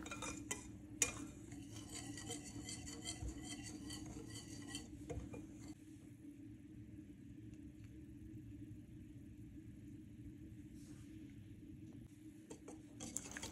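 A utensil stirs large eggs into dry chocolate cake ingredients, including a pinch of salt, for a flourless, gluten-free pan-cooked cake, with soft scraping and clinking against the bowl over a low rumble and one sharper knock near the start.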